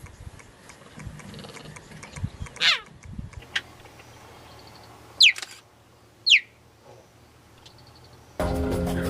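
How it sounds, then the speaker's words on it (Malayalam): Cheetah calls: short rising chirps like a bird, three sharp separate calls, with a faint cat-like meow early on, against quiet outdoor background, then a sudden burst of broadband noise at the end. "എന്നാൽ ചീറ്റപ്പുലിയാകട്ടെ പൂച്ചകളോട് സാമ്യമുള്ള ശബ്ദങ്ങളാണ് പുറപ്പെടുവിക്കുന്നത്."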